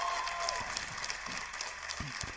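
Scattered clapping from a crowd, fairly faint and brief, with some movement noise underneath.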